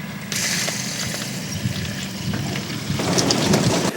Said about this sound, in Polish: Należy teraz odkręcić e, ciśnienie wody.